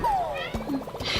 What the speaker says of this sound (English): I don't know if you can hear him like meowing